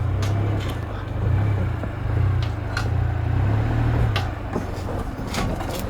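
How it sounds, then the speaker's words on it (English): A car's engine idles low and steady as it creeps slowly up onto drive-on ramps, with a faint rumble swelling and easing and a few light knocks or creaks. "We'll go ahead and drive it up. And you just take it nice and slow."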